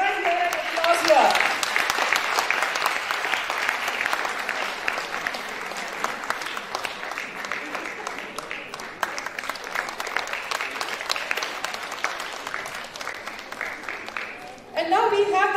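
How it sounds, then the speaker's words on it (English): A school audience at a science day applauds the quiz team participants with steady, sustained clapping for about fifteen seconds, the sound of many hands filling a hall and swelling again at the end. "A very huge round of applause for all the participants of the quizzing team."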